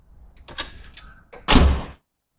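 Tailgate of a 2026 Mitsubishi Triton Athlete double-cab pickup with a fitted bed liner being handled: light clunks and rattles, then one loud, close metallic thud as it drops open, fading within half a second.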